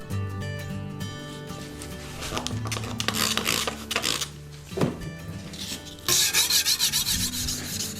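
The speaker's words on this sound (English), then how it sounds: "Hand sanding is probably the most tedious part of knife making." A Damascus steel kitchen knife is hand sanded with continuous rasping strokes, rough and close, swelling and fading in an uneven back-and-forth rhythm, with a few sharper scrapes. No talking.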